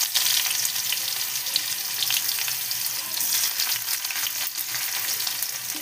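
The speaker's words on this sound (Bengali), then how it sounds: "পেঁয়াজ ভাজা হয়ে গেছে" Chopped onions fry in oil in a wok with a loud, continuous close sizzle and crackle, broken by occasional scraping from stirring.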